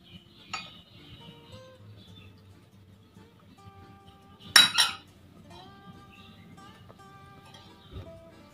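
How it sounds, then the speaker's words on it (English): Dry pasta tipped into a mug: small clinks and taps of hard pieces against ceramic, with one louder clattering pour in the middle and quieter kitchen handling sounds around it, close and indoors. "Now I am putting some pasta in the mug"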